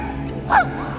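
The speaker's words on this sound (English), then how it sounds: "she can manage to show her skill off by barking as many times as you tell her" A single sharp, close bark from a dog counting by barking on command stands out briefly over a low steady background hum.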